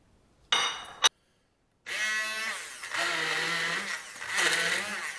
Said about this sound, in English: So let's grind this into a lovely, lovely smooth paste.